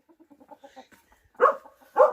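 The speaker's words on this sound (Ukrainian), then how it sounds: "Кури." A series of soft, rapid clucks from a nearby chicken, followed by two louder squawking calls.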